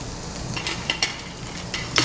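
Shrimp tossed and sautéed in a pan for shrimp scampi, a steady sizzle of frying with scraping stir strokes and a few sharper clatters as the pan is moved, close and fairly loud without talk.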